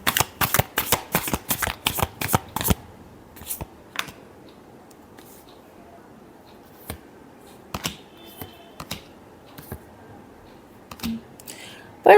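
A deck of tarot cards riffled and shuffled close up, a quick run of sharp flapping bursts at the start, then sparse taps and card handling in a quiet room.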